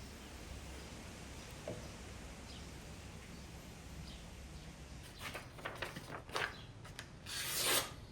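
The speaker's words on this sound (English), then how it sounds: "all that's left to do now is sharpen the knife" A hand-forged 59-layer damascus bowie knife is sharpened with quiet rasping, rubbing strokes, faint at first, then a cluster of sharper scraping passes toward the end.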